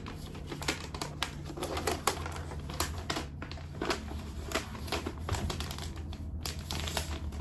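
Nearby paper crinkles and tears as a packet of written questions is ripped open, a dense, continuous rustle with no talking.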